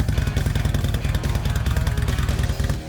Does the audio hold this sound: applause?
no